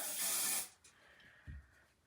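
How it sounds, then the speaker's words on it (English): Hairspray gets a short burst onto a freshly set curl, a loud close hiss lasting about half a second, then a quiet pause and a soft low thump. "and then I spray this."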